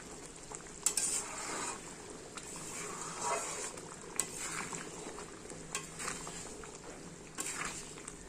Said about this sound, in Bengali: মশলাটা কষবো